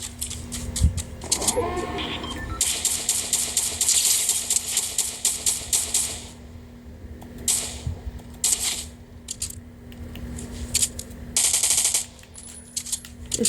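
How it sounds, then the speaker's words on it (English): A slow-firing, heavy-damage assault rifle in a video game, spaced bursts of loud shots with gaps between, over a steady low hum and occasional game effects, while someone talks. "I personally like these slow shooting, heavy damage dealing ARs a lot"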